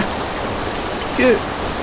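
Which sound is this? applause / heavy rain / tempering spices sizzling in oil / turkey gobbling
heavy rain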